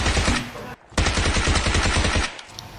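Rapid automatic gunfire in the mobile battle royale game PUBG Mobile, dense bursts of shots nearly filling the clip with a short pause about a third of the way in, loud and close.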